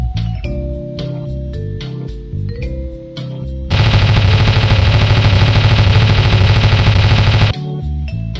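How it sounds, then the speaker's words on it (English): Gunfire in a Homestuck animation as Caliborn shoots Gamzee: a dense, loud burst of rapid machine-gun fire runs for several seconds in the middle, set between sparse tonal music and effect sounds. "Caliborn shoots Gamzee."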